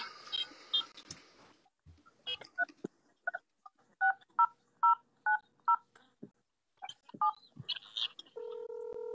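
Telephone keypad dialing tones: a run of short, evenly spaced beeps at moderate loudness, followed by a steady tone as the call connects, with brief talk and background noise at the start.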